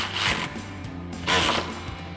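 A grille ground bolt on a 2014-2021 Toyota Tundra being tightened by hand: two short bursts of close ratcheting clicks a second apart over a faint low hum, with no speech.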